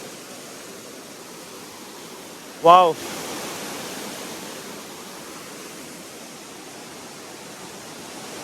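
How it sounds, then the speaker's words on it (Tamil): Water pours down from above in a steady, even rushing hiss that continues throughout, with a single brief exclamation from a voice partway through. "இவருங்க மேலேருந்து தண்ணி அப்படியே சொட்டு சொட்டாக கீழே ஊற்றிட்டு இருக்கு."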